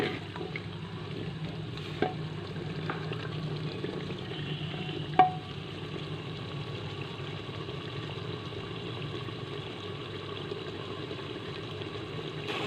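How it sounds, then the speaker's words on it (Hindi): Meat cooking with turmeric and coriander powder for arvi gosht, a steady low sizzle of frying going on throughout, with a couple of faint clicks of stirring and no talking. "इसे मिक्स करेंगे 5 से 10 मिनट के लिए। इसे अच्छी तरह भूनेंगे।"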